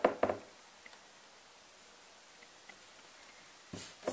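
A beading embroidery frame knocking because it sits unevenly, heard as a few close, sharp wooden knocks at the start and again near the end, separated by near silence.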